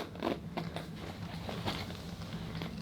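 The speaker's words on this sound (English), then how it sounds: "So now I zip this bag up." A zipper runs along a YSL men's City camera bag in quick, rasping pulls, close and fairly soft, with small scrapes and rustles of the bag between strokes.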